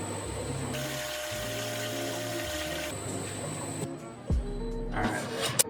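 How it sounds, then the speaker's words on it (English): Water running steadily into a brewery fermenter during a clean-in-place setup, with machinery hum underneath and a couple of brief knocks near the end. "I'm just watching the water going in."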